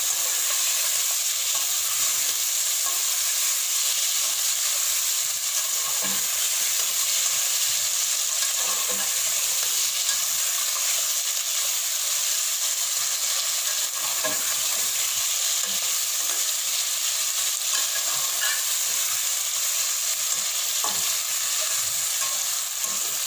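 Diced potatoes stirred and frying in a pan for an egg and potato curry, with a steady close sizzle and repeated scraping stir strokes throughout, no talking.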